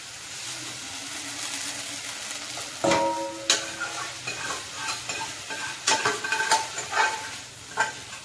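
Vegetables for a Bengali fish shukto are poured into a pan of hot oil and sizzle steadily, with a burst of crackling on entry followed by clinks and scrapes of a spoon stirring the pan.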